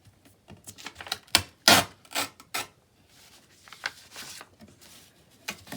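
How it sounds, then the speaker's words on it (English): Paper is torn along a tear ruler in a series of close, sharp ripping bursts of uneven length, with quiet gaps and softer scraping between the tears. "I'm going to just use my tear ruler along the bottom."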